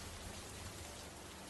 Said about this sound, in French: cette pluie qui continue de tomber